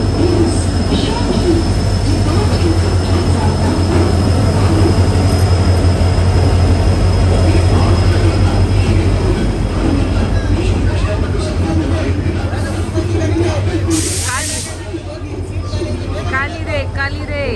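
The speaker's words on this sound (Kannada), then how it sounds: "ಮೈಸೂರು ತಾಳ್ಗುಪ್ಪ ಎಕ್ಸ್ಪ್ರೆಸ್" A Mysore–Talguppa Express passenger train runs along the track with a continuous low rumble and rhythmic wheel clatter, heard from on board with faint high squeals and background chatter over the steady motion.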